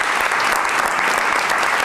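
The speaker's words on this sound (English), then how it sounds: "let's give them a round of applause for their courage." A dense, loud burst of applause from an audience at a reading event fills the room, continuous and even throughout.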